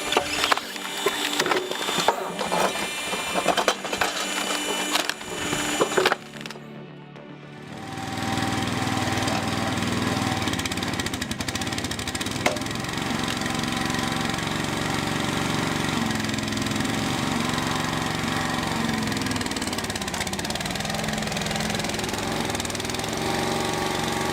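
A small engine powering a hydraulic log splitter drones steadily and close, running continuously after a few seconds of scattered clattering and knocking at the start.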